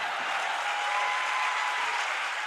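Audience applause welcoming a guest at a live stage show in Michigan, a steady dense wash of clapping from a full crowd with no voices over it.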